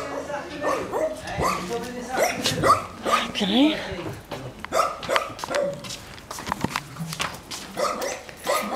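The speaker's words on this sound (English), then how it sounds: "So many small dogs in here." Many small dogs bark and yip in short, overlapping bursts close by, mixed with a person briefly speaking and a busy indoor background.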